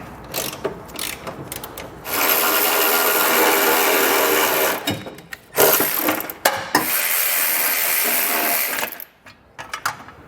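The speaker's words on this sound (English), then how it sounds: "They'll come in with our socket and get them off." Socket tool working bolts loose on a 2020 Nissan Rogue Sport during a trailer hitch install, giving two long stretches of steady rasping, clicking mechanical noise, close and fairly loud, broken by short knocks and pauses.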